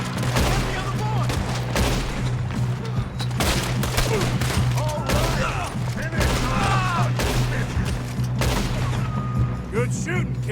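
Rapid volleys of gunfire crack through a Red Dead Redemption 2 train shootout, dense bursts repeating over a steady low rumble, with voices calling out between the shots.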